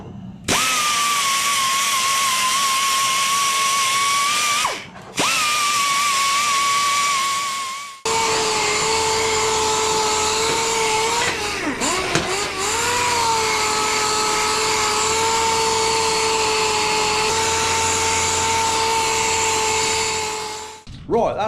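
Loud high-pitched whine of a power tool removing rust from the exhaust of a Yamaha XT660 motorcycle, running in long sustained bursts with brief pauses and pitch dips as it bites into the metal.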